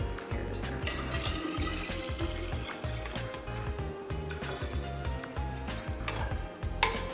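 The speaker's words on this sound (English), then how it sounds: "we're gonna wanna add 3 cups of water to this before we drink it" Water poured from a tap or jug into a pitcher of cold brew coffee concentrate, a continuous close splashing rush that runs unbroken without any voices.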